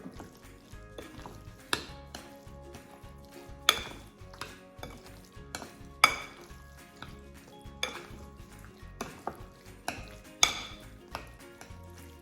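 A spoon folds and stirs guacamole in a bowl, giving soft scraping sounds and intermittent sharp clinks of utensil against the bowl in an uneven rhythm, close by and without speech.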